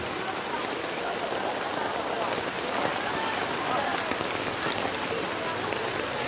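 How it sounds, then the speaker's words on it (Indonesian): Heavy rain pours continuously at an outdoor market during flooding, a dense, loud hiss of drops with no pauses. "Hujan."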